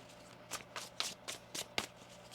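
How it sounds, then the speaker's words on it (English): A deck of tarot cards is riffled in a quiet room, giving five or six crisp, close ruffling bursts in an even rhythm with short pauses between them. "One more shuffle."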